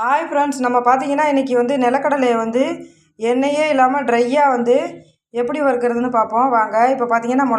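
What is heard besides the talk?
No everyday noises stand out.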